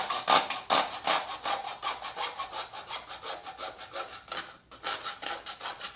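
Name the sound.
hacksaw cutting a plastic detergent bottle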